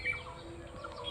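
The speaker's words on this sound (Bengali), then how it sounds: "পাখিদের কিচিরমিচির আওয়াজ" Birds chirping in a quiet rural village, faint distant tweets over a soft, steady outdoor background.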